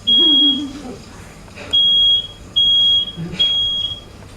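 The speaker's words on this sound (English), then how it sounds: "I'm going to go turn off the fire alarm" A smoke alarm goes off during a live science show involving a flame demonstration, giving four loud, high electronic beeps at regular intervals with a faint voice at the start.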